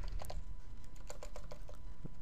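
Typing on a wireless computer keyboard, a sparse run of light, quick key clicks up close against quiet room noise.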